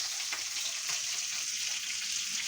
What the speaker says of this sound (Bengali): দুপুরে রান্না হচ্ছে, মাছ ভাজছি।